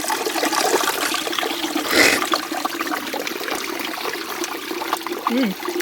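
Water runs from a small mountain waterfall along a hiking trail in Japan, a steady close trickle and splash with a brief louder gush midway, then a faint voice-like sound near the end.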